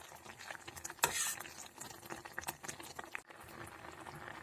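Thick millet porridge made with milk bubbles and plops in a pot on medium gas while a spoon scrapes and stirs, with occasional louder clinks.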